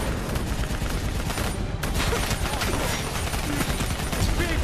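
Dense, continuous automatic gunfire in a Call of Duty: Black Ops 3 battle against a VTOL and an APC, loud and close, with a brief break partway through and faint shouting beneath the barrage.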